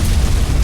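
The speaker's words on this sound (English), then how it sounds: "A massive explosion detected by the Hannibal 3 spy satellite in the vicinity of the classified Armacham facility" A massive explosion in the video game F.E.A.R., a loud, rumbling low boom that fills the whole moment with heavy sustained roar and no voices.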